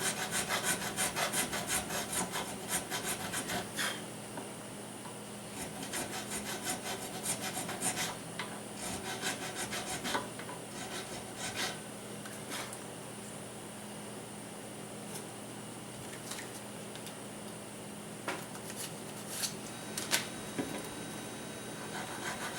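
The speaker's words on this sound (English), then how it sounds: "I'm just going up through the nut files." Nut files rasp in the nut slot of a vintage guitar, a steady scratchy back-and-forth filing that carries on throughout, close and fairly even, over a faint background hum.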